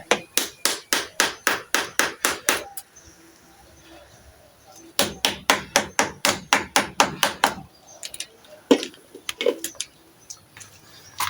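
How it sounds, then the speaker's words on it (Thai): Rapid, evenly spaced metallic hammer taps on a car battery terminal in two quick bursts, close and loud, followed by a few scattered lighter knocks. "เบาๆไม่ต้องตอกแรงนะครับ เดี๋ยวมันแตก"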